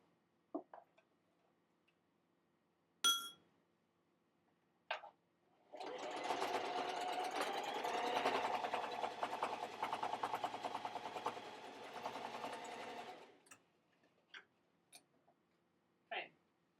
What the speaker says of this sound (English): Now we're going to sew this corner.